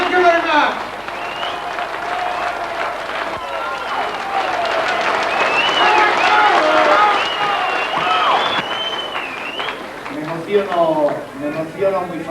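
A crowd at a waterfront rally applauds the Liverpool dockers, their families and the local community, with broad sustained clapping and some cheering under speech from nearby voices.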